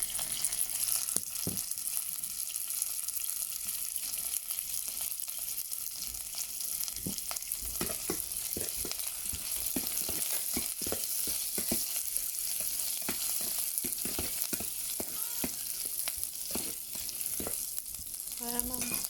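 Onions sizzle and fry in a pan for chicken tinola, a steady close crackle with frequent clicks and stirring scrapes throughout, no talking.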